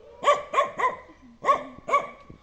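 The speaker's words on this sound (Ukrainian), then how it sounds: "Чого ти гавкаєш?" A dog barks close by in five sharp barks, three quick ones, a short pause, then two more, alone with no talk.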